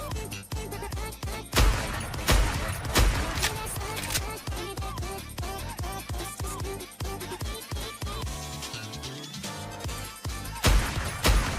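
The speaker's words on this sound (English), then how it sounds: "This is a big machine gun?" Rapid bursts of machine gun fire in a video game crackle in dense, repeated volleys with sharp impacts throughout, loud and busy, with occasional talking in the mix.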